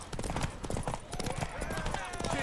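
Horse hooves clip-clop in The Witcher 3 video game, a quick rhythmic run of hoof strikes under loud, overlapping voices and game noise.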